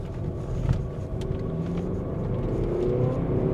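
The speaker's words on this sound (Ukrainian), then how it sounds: "Як бачите, машина сильно набирає, швиденько, без всяких проблем." Volvo V90 Cross Country D4 diesel estate accelerating hard on the road, recorded from inside the cabin: a steady engine drone and road rumble that swells slightly as speed builds, with no talking.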